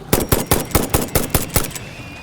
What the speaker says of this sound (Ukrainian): а наскільки зручно взагалі по мошках стріляти